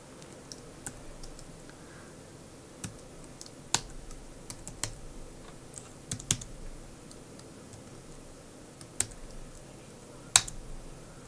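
Sparse keystrokes on a computer keyboard while a magazine machine-language program is typed in, each click distinct and close, arriving irregularly with pauses between them over a faint background hiss.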